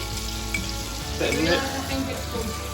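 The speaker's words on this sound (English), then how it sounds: "We're then gonna fry the shallots with the bread." Shallots and bread fry in leftover sage butter with rapeseed oil, giving a soft, faint sizzle that swells briefly midway, with low background hum and no clear talk.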